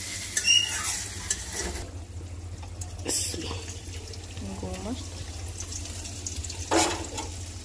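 Okra stir-fried in a pan, a moderate sizzle with intermittent stirring and scraping, plus a few brief clatters and water-like splashes.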